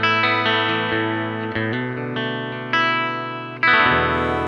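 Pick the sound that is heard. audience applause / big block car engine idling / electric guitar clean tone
electric guitar clean tone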